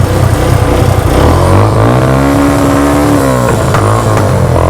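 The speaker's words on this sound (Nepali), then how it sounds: "ल साइलेन्सर त बबाल पड्किँदो रहेछ खतरा पड्किँदो रहेछ" A Renegade motorcycle engine runs loud and close, revving with a rising and falling drone and rough, sputtering pulses from the silencer.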